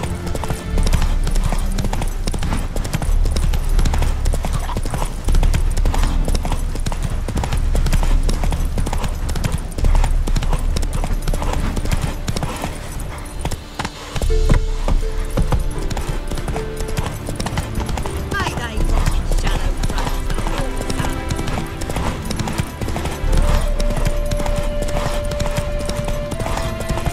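Roach the horse gallops in The Witcher 3, hooves pounding in a fast, continuous rhythm under game music and ambient sound, loud and close, with a brief dip midway and a voice speaking at times.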